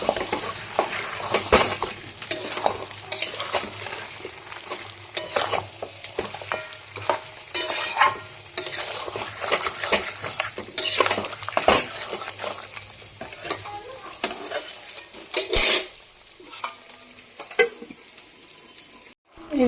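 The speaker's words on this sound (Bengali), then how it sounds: "অল্প অল্প জল দিয়ে দিয়ে কষতে হবে মাংসটা" Meat is stir-fried with small splashes of water in a pan under a steady sizzle, with frequent scraping and clattering strokes of a spatula against the metal and a brief quiet near the end.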